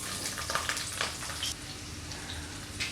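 Three large, coarsely cut onions frying in two tablespoons of hot oil in a pan, a steady broadband sizzle with faint crackles and no voices.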